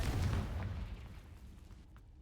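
The Confringo fire spell in Hogwarts Legacy goes off as a single heavy explosive boom that hits at once, then rumbles and fades away over about two seconds.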